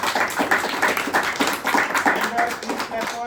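A group in a classroom discussion session claps steadily and quickly for a few seconds, close and fairly loud, while voices talk over the clapping.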